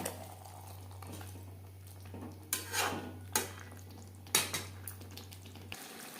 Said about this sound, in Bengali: হাই ফ্লেমে 3-4 মিনিট আলুর সাথে মাংসের সাথে আলু বেশ ভালো করে কষিয়ে নেব